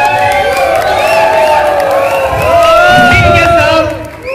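A crowd at a celebration welcomes guests with cheering, whoops and whistles, loud and continuous, with music-like tones running underneath and a swell midway before it eases.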